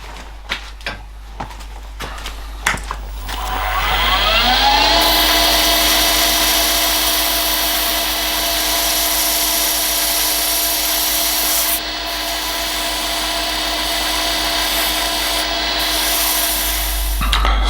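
Acrylic pen blank spinning on a lathe while being sanded with 800 grit paper, a high steady whine that rises as the lathe spins up and holds, with a constant rubbing hiss close to the microphone.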